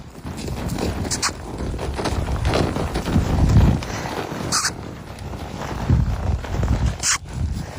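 Irregular hoof thuds on the ground as a horse moves about on a farm, with a few crow caws and scattered clicks nearby, no speech.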